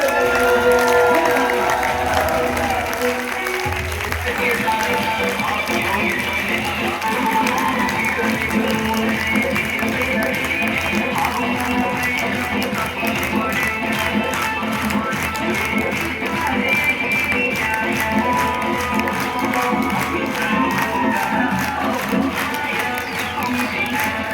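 Audience at a business gathering breaking into loud, sustained applause and cheering as a guest is invited to the stage, a dense continuous roar of clapping lasting throughout.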